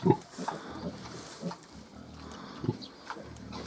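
A Hungarian Mangalica sow with newborn piglets gives scattered grunts and squeals at close range, with a voice talking faintly in between.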